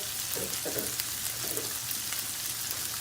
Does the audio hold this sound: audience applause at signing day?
no